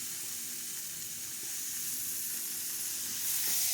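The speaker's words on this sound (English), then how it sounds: "I just wanted to sear it a little bit to lock in some of that goodness." A roast sears in a hot pan with a soft, continuous sizzle and hiss, fairly quiet and steady, swelling slightly toward the end with no talking.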